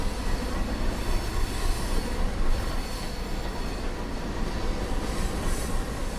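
CSX freight train, a coal-hauling local led by a single locomotive, in the Trainz railroad simulator: continuous rumbling rail noise with wheel hiss and faint squeal, steady and moderately loud throughout.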